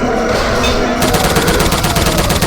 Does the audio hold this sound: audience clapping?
no